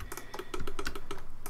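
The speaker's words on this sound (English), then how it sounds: "I'm hoping that the mouse clicks are not getting annoying to you. It's quite a lot of clicks." Rapid clicking from a computer mouse and keys during 3D character modeling in Blender 3.0, a quick irregular run of crisp, close taps with no talk.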